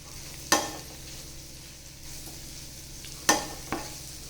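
Spoon stirring tindora and potato curry with chopped tomatoes and sugar in a pan, with two sharp scraping clanks against the pan over a soft, steady sizzle.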